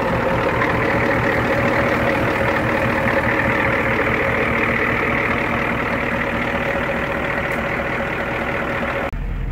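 An antique truck's engine idles close by in a steady, loud, even rumble with a constant hum that runs unbroken for several seconds before cutting off abruptly at the end.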